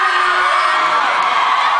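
Dense crowd of fans cheering, whooping and shouting at a fan event in New York City, loud and sustained throughout with no break, a mix of adult and children's high-pitched voices.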